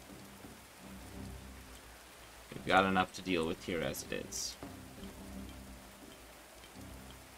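Steady rain hisses in the medieval colony-building game Going Medieval, a soft constant wash at low level with a few faint rumbles, while someone talks over it for a few seconds in the middle.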